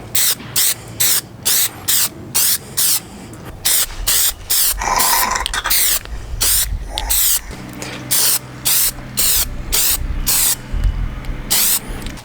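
Aerosol spray paint applied in coats to car badges: a series of short, sharp hissing bursts in quick rhythm, then a long continuous spray, then more rapid bursts, all close and loud.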